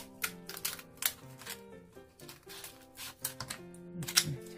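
Kitchen shears snip the sharp, pointed parts off a raw crab being prepared for a spicy seasoned crab dish, giving a quick series of crisp, close clicks and crunches in an uneven rhythm, with no voices.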